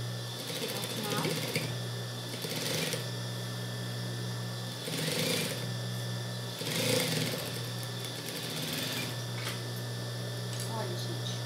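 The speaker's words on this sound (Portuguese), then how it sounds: "vamos passar a costura até chegar ao final" A sewing machine stitches a seam on a baby romper, running as a steady close mechanical whir with periodic louder surges, while someone talks over it.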